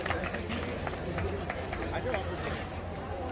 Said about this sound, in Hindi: बहुत बहुत तालियों से स्वागत।